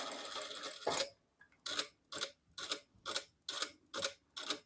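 Short bursts from a sewing machine stitch a fabric shoe bag, roughly seven rapid stop-start runs of close, clattering stitches separated by brief pauses, with no talking.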